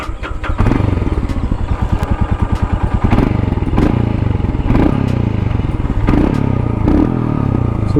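A 2021 Royal Enfield Himalayan single-cylinder motorcycle starts up close by, then its exhaust settles into a loud, steady thumping idle with a few brief revs and mechanical clatter.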